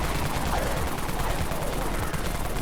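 Dense, continuous rapid gunfire from the Dawn Mag weapon in the Dead Frontier video game, loud and unbroken like a machine gun throughout.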